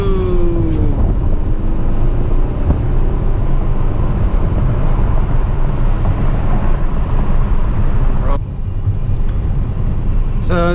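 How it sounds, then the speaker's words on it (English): A 2014 VW Tiguan in sport mode with manually held gears, driven slowly at high revs around the block: a loud, steady engine drone and road noise throughout, with a brief dip near the end. "I just put it in the sport where I can control the gears, so this way I can drive slow and keep it at a high RPM."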